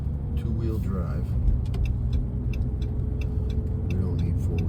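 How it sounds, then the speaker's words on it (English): A car rolling along behind on a snowy road during a Buzzards Bay blizzard, a low steady engine and tire rumble heard from inside a vehicle, with scattered clicks and a voice talking over it. "We got a car behind me now."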